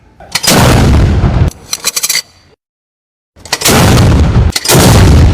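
Loud, close bursts of gunfire ring out in heavy volleys that break off into a brief silence and then resume.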